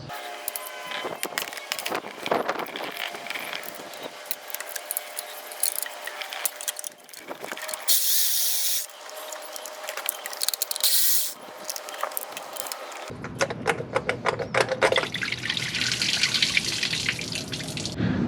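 Water sprays while the engine block cooling system of a 2001 Toyota Tacoma is flushed with the thermostat removed. It comes as uneven hissing gushes with clinks in between, then a steadier, fuller spray toward the end.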